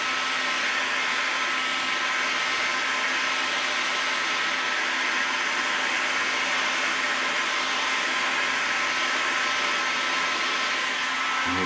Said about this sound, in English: you can use a hot air gun and then just heat them up, get the glue a little bit warm